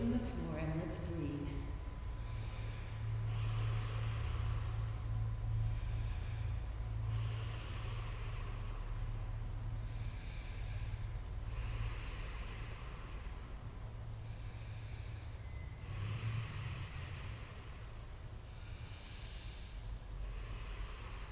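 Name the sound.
deep breathing during a yoga class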